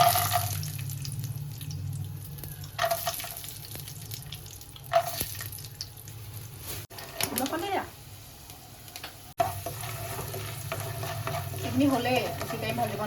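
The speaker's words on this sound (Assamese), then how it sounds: "এইখিনি হ'লে বেছি টাইম ভাজিব নালাগে" Papad and peanuts fry in a hot wok, with a continuous sizzle under brief stirring scrapes and clatters and a short bang near the middle; running water and voices come and go in the background.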